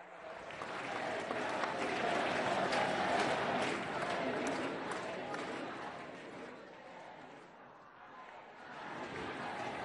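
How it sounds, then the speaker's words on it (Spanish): A large crowd at a public event with Pope Francis breaks into strong, sustained applause for President Evo Morales, with cheering voices mixed in, swelling and then easing slightly before rising again. "Un fuerte aplauso para el presidente Evo Morales Saima"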